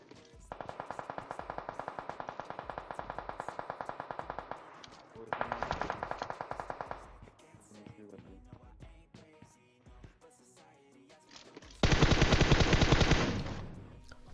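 Automatic gunfire from an UZI in the video game PUBG Mobile rattles in three long, rapid bursts, with scattered distant shots between them; the final burst is the loudest.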